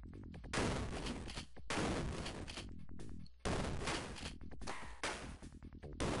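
Shotgun blasts in the video game True Lies, loud heavy booms arriving in quick repeated bursts with short gaps between them.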